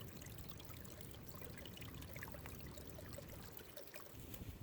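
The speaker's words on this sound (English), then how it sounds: "Soon I reached a spring where I filled my water bag." Spring water trickles and pours steadily into a water bag at low volume, a continuous soft gurgle with faint outdoor background in the Great Smoky Mountains, no voices.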